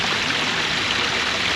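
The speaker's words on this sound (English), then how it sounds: "Love the stone with the water flowing out, looking over the waterfall, and then down here in front is another little waterfall" A small waterfall runs over stone at Bowman's Hill Wildflower Preserve, a steady, close, even rush of falling water with no voices.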